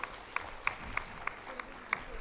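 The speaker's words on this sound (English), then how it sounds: "A big round of applause for this" Scattered hand claps from an audience at a medical education conference, a loose string of about seven distinct claps spaced evenly, moderately close over quiet room noise.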